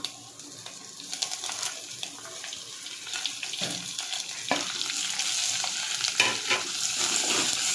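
Urad dal fries in a pan with chopped ginger and green chillies added, a close sizzle and crackle that builds in intensity, punctuated by stirring scrapes and sharp spatters, with no one speaking.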